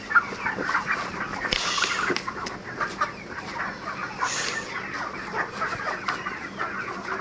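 Broiler chickens on a poultry farm cluck and chatter together in a dense, continuous flock murmur, with some louder individual calls rising from the crowd close by.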